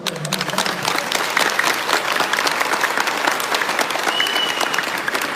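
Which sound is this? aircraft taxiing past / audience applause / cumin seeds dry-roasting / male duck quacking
audience applause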